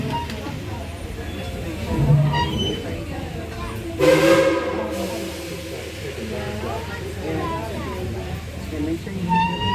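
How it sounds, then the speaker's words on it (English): A Tweetsie Railroad train runs steadily with low rumbling and rail noise while someone talks over it, and a brief whistle or burst of steam rises partway through. "Casey Jones, let's get this train on up to Fort Boone."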